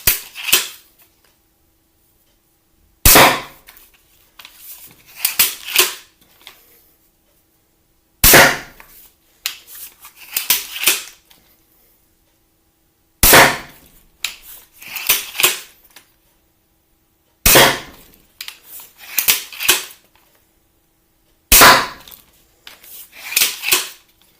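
An Alligator Steambow crossbow fires at targets, each loud sharp snap of release followed by clattering mechanical reloading noises, repeated five times in close, evenly spaced bursts with silence between.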